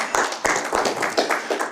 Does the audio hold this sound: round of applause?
yes